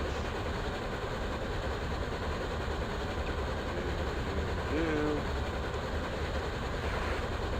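Locomotive running in Microsoft Train Simulator (2001), a steady, dense engine and rail rumble that holds at an even level from start to finish, with faint wheel clatter underneath.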